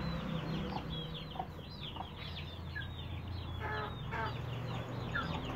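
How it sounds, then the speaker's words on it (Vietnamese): Several chickens cluck and chatter close by while being fed, with short clucks and a few higher calls over a steady farmyard background. "cho em mấy em gà ăn"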